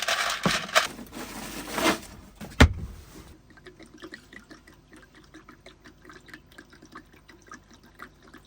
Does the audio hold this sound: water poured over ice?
yes